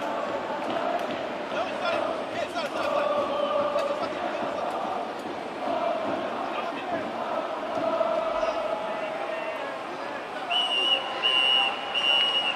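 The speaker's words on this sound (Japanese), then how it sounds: "ここでホイッスル" A referee's whistle sounds during an American football game, appearing late as a short shrill blast over crowd noise and continuous commentator speech.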